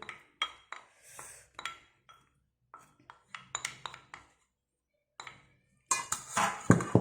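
A spoon stirs fruit salad dressed with yogurt in a bowl, making scattered light clinks and scrapes against the bowl's sides, with quiet gaps between them, then a louder, busier burst of mixing at the end.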